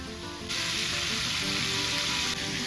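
Boiled cauliflower stems tipped into a hot pan burst into a loud, close sizzle about half a second in, holding steady before easing slightly near the end.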